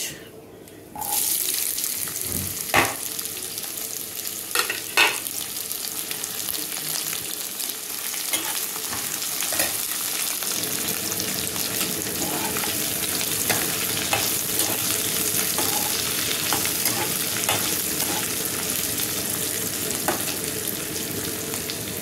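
Onions hit hot oil in a pan for a Bengali prawn dish with dried red chillies, a steady loud sizzle starting abruptly and continuing throughout, with some stirring clinks and no speech.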